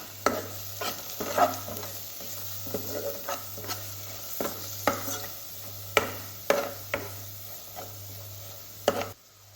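Kerala-style squid roast frying in a pan, a soft steady sizzle under repeated spoon scrapes and taps as it is stirred, fairly quiet and close, with a faint constant hum beneath.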